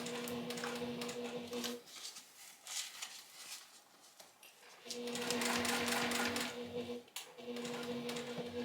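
A sewing machine stitches a seam on a bag, running in steady mechanical bursts with a constant motor hum and fast needle rattle, pausing briefly between runs, close and clear without speech.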